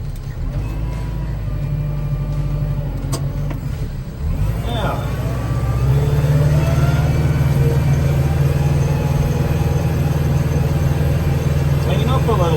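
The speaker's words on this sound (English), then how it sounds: "So that's why I blow the snow out of the way." A snow blower engine drones loud and close during a winter storm, its steady low roar growing heavier midway as it throws snow, with a person talking over it.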